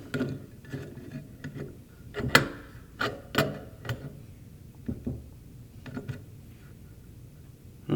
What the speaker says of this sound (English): you might need to come in here and with a wrench and do the final tightening